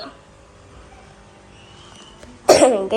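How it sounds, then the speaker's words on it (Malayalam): A single loud, close cough bursts out near the end after a few seconds of quiet indoor room tone, in a home beside an aquarium tank of colourful fish. "എനിക്ക് കുറച്ച് ചുമയൊക്കെയാണ്, അതുകൊണ്ടാണ്."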